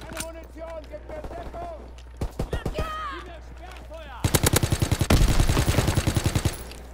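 In Call of Duty: WWII, a Type 100 submachine gun fires a few short bursts and then a long, rapid automatic burst, loud and close, with other game sounds and scattered distant shots around it.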